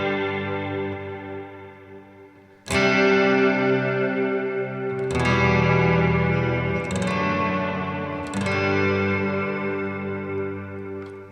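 An electric guitar runs through a Mr. Black Eterna reverb pedal with the mix turned up high. Four loud strummed chords each swell into a long, washy tail that hangs until the next strike, with no voice over it.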